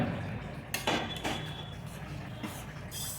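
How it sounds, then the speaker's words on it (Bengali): A pot lid is lifted off khichdi as it cooks, giving a few metallic clinks and scrapes against the rim over a background of soft bubbling. "এবার ঢাকনাটা খুলে নিলাম"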